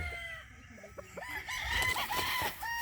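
Roosters crow and hens cluck on a cool mountain farm, several clear crows rising over ongoing clucking at close range, with no talking.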